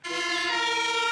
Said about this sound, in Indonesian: Widih, mobil ambulan.